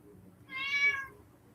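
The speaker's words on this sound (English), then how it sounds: "my cat's saying hello to you guys too" A house cat named Jumanji lets out a single clear, drawn-out meow, close and moderately loud, with faint room quiet before and after.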